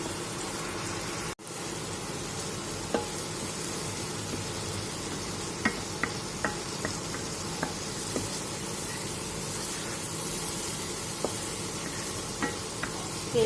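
Egg posto masala frying in oil as it is cooked down until the oil separates, a steady broadband sizzle throughout with scattered faint clicks and scrapes of stirring, close and alone.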